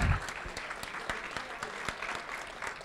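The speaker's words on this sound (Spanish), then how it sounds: "un fuerte aplauso" Audience applause at a line-following robot competition at the OSHWDem 2019 maker fair, with scattered claps at moderate level, sharp individual hand claps standing out near the microphone, and some voices mixed in.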